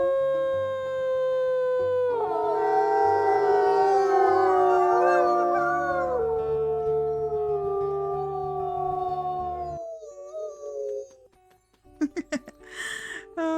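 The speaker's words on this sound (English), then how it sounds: "Let's go ahead and do a howl." A wolf pack in a wolf video game howls together, long overlapping wavering howls rising and sustaining for several seconds, then a single drawn-out howl fades out, followed by a few brief sharp sounds.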